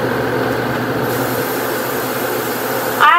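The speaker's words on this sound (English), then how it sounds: "I spray it out to spray all of the residue of makeup out" A continuous hissing spray from a Luminess Pro makeup airbrush clearing out makeup residue, with a steady mechanical hum, ending in a brief sharper burst of air.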